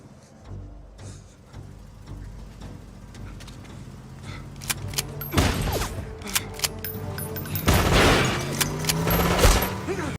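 Gunfire rips through an action scene from The Punisher (2004): loud bursts of shots arrive in two dense clusters over a low, rumbling backdrop, heavier and more sustained toward the end.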